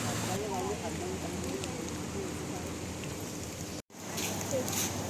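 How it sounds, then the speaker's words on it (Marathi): Steady monsoon rain falls outdoors in Mumbai, a continuous hiss of drops on surfaces, with a brief dropout near the end. "पाऊस थेंब थेंब पडायला लागला"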